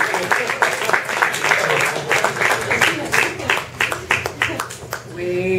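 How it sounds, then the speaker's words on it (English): An audience claps and applauds at a writers' membership event as a performer walks onto the stage. The clapping is dense and steady with some crowd noise and voices mixed in. "Big round of applause, everybody, as Sylvia comes to the stage."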